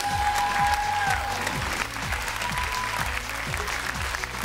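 A large audience applauds at an X-Factor gala show, dense and sustained clapping that stays steady throughout, with a brief tone from the stage heard over it early on.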